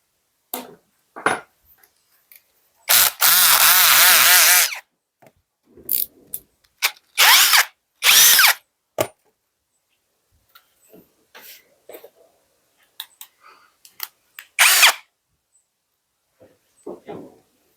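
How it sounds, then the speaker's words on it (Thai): An electric drill bores pilot holes for fitting a door lock, heard in one long whirring burst and several shorter ones separated by quiet pauses and small handling clatter. "ผมก็จะเอาสว่านตัวนี้แหละ เจาะรูแทน"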